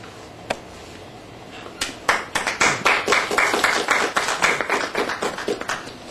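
Applause breaks out after a lone tap as a crowd welcomes a singer, clapping steadily at moderate volume, dense and bright, with no voices.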